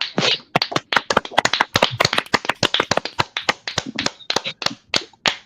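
A small audience claps through a round of applause at a fan convention celebration, with distinct, fairly close hand claps in an uneven rhythm that thins out toward the end; no talking.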